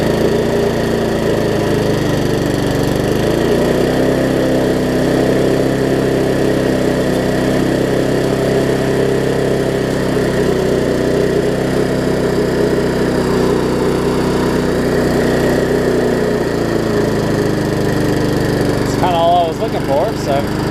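An old Garden Pride lawn mower engine running close by, a loud steady drone with a slight rise in pitch, lasting throughout with a brief rattle near the end.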